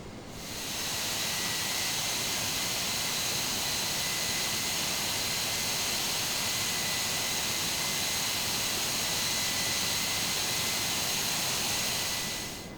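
Jet engines of a Just Flight DC-8 taxiing in the game FSX give a steady, loud whine with a constant high tone over broadband rumble, fading in and out at the ends and running alone without talk.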